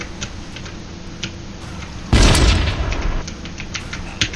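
A bomb goes off in a first-person shooter set in a desert scene, a single loud boom that fades over about a second amid faint clicking game sounds.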